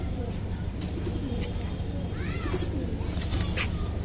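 Silver military pigeons in a collection coo a few times over a steady low hum, with faint chirps and voices in the background.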